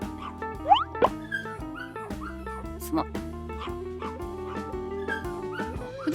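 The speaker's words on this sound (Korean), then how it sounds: "아니 여우가 왜 짖는 게 말티즈야?" A fox in a video game barks like a small dog, a few quick high yaps over looping game music while a player talks.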